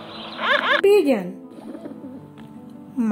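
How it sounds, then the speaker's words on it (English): A pigeon coos softly in short rounded phrases after a brief bright burst at the start, with a voice speaking over part of it. "Pigeon."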